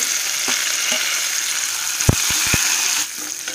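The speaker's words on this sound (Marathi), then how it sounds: "आता ही कांदा मऊ छान होईपर्यंत आपण परतूया फोडणी" Onion, coriander and chilli frying in a mustard-seed and cumin tempering, a steady close sizzle with a few sharp pops and stirring clatters around the middle, then a sudden drop in level near the end.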